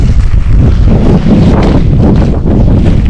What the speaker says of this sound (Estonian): sest mingi kuradi tuul on